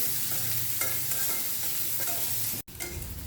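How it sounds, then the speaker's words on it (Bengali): Onion paste being lightly fried and stirred in a pan, a steady close sizzle with scraping stir strokes throughout and a brief break near the end. "আমি পেস্টটা আমি হালকা ভেজে নেব একটু"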